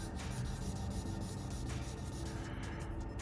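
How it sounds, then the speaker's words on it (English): 1500 grit sandpaper rubs wet over the painted body of a 2003 Cobra in a steady, continuous close-up scrubbing hiss without pause. "I'll start wet sanding that"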